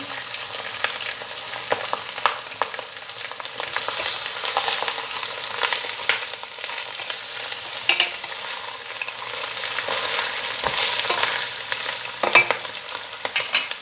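Steady loud sizzling of lamb searing in a pot for a stew, with occasional stirring scrapes throughout and no voices.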